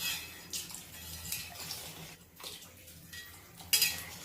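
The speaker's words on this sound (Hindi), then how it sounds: "अभी और पानी डालना पड़ेगा" Water is poured into a pot of desi chicken cooking on a stove, with close clinks of metal utensils and a soft splashing pour in a quiet kitchen.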